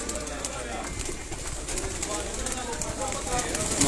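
Pigeons being readied for the summer season coo softly in a loft, their low murmuring calls overlapping with background voices and light rustling.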